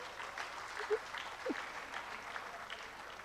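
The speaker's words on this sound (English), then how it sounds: "Please, a round of applause for her." Faint audience applause at an engineering memorial lecture, honouring a lecturer after her talk; soft, steady clapping heard from a distance with a couple of brief tonal squeaks over it.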